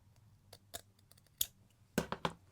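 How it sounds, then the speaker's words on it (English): Scissors snip through a fabric waistband in a few crisp, close cuts, ending in a quick cluster of snips. "I'm just going to grab my scissors and literally"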